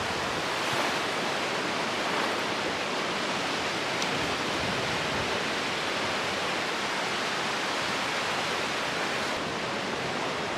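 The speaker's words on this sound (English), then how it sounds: "every 7th wave or so is the big one that'll wash your feet out" Waves wash continuously onto the shore with a broad, steady roar at moderate volume. The setting is a lakeshore stretch of the Ice Age Trail, and no voices are heard.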